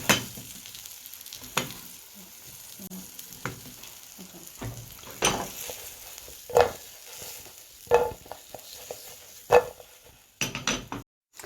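Vegetables with salt and turmeric stirred in a frying pan, a steady sizzle beneath repeated scraping strokes and light clinks of a utensil against the pan, close and fairly loud.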